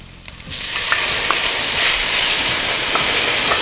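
Sauerkraut sizzles and fries in a hot pan alongside pork loin chops, a loud steady hiss that rises sharply after a brief quieter start, with faint clinks and stirring sounds scattered through.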